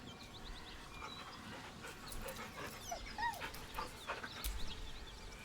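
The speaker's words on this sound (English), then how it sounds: "The dog whimpers nervously, as if to urge you on." Dog in the video game Baldur's Gate 3 whimpering softly and panting, with short high whines scattered over a steady low background bed, fairly faint and without speech.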